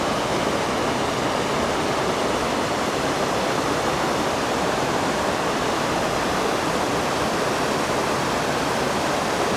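Arbuckle Creek in Fayette County, West Virginia, near the ghost town of Erskine, rushing steadily with a loud, unbroken broadband wash of flowing water, close by and alone with no voices.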